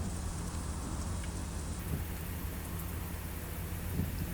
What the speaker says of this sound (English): So we've got this large storm here.